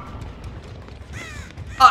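A crow caws in the Dead by Daylight video game, a short harmonic call in the middle followed by a louder burst near the end, over low background game noise and a speaking voice.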